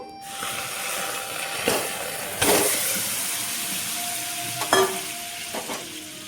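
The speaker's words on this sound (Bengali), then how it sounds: "কড়াই গরম হয়েছে মালাটা এখন ঢেলে দিব" Milk cream (malai) frying in a hot wok to make homemade ghee, a continuous bubbling sizzle up close, broken by a few clattering spatula strokes against the pan.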